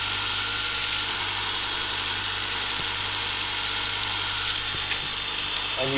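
A Robert Sorby Pro Edge sharpening machine grinding a woodturning gouge held in a jig, giving a steady, loud, continuous whine and hiss with a few faint ticks and knocks.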